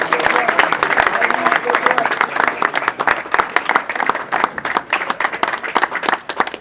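A crowd at an award ceremony bursts into loud, dense clapping that goes on and on, sharp hand claps crackling close and thick throughout.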